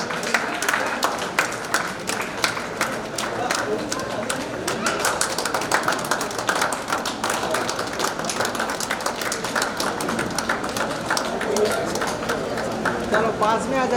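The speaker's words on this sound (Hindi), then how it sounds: "जोरदार ताली से सम्मान करें।" Audience at a Vijayvargiya community anniversary function in Guna claps and applauds steadily for a young honoree, a dense wash of hand claps close by, with voices murmuring underneath.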